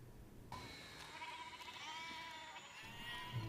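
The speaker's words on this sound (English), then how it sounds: "Curse you, sheep." A sheep bleats in a long, wavering, nasal cry lasting several seconds, fairly close and clear over quiet background, ending with a short louder burst.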